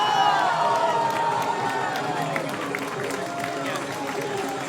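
A crowd cheers and shouts at a DDR A3 dance game tournament, a loud, steady wash of many voices with some higher calls standing out, continuing throughout.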